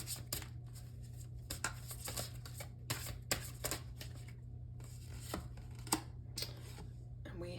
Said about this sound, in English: I'm going to shuffle these inspiration cards